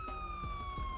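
A police car siren in GTA 5 with the LSPDFR ELS mod sounds as a steady electronic wail tone, heard loud and alone, with a few low thumps beneath it.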